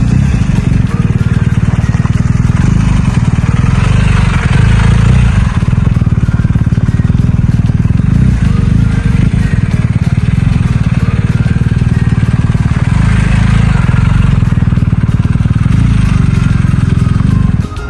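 A motorcycle engine runs steadily and loudly, working at low speed through a tight garage practice course in a slow-speed riding drill, its even drone filling the whole stretch.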